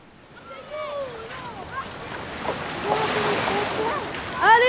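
Beach waves wash in steadily as a broad, rising surf hiss with wind buffeting, while a bird's whistling calls sound faintly on top.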